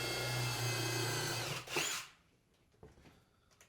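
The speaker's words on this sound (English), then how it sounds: "So right now what I'm doing is I'm drilling the piece of wood in place" A power drill whirs steadily for about two seconds while driving a screw into wood, then cuts off, leaving faint taps and handling noises nearby.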